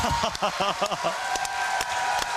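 Spectators at a youth lead climbing championship final burst into sustained clapping and cheering. Excited voices shout over the start, then steady applause continues.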